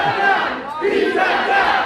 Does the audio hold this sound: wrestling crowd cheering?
yes